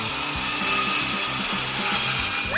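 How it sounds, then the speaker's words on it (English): A hand saw cuts through a wooden bar with a steady back-and-forth rasp in quick regular strokes, close and loud, outdoors in a backyard, with a constant background hum. "Wow, sawing a bar."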